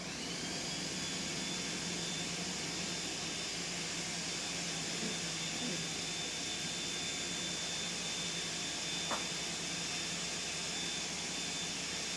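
A kitchen blender whirring steadily while making a creamy gluten-free pizza sauce, a continuous high motor whine with a thin rushing hiss, even and unbroken from start to finish.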